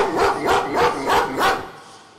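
A dog barks five times in a steady rhythm, close and loud, then falls silent; the dog had run in from the street through a front door.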